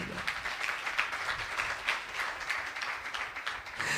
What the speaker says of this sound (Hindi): आओ उसके जलाल के लिए जोरदार तालियां